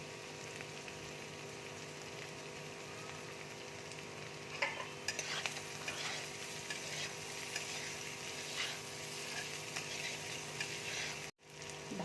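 Spices with black pepper and chili flakes frying and being stirred in a pan, a steady close sizzle running throughout with occasional scraping stirs, no talking.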